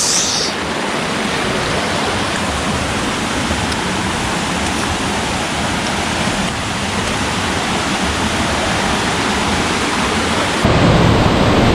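The Semuncar waterfall on the slope of Mount Merbabu in Boyolali roars close by, a loud, dense and unbroken rush of falling water with no voices.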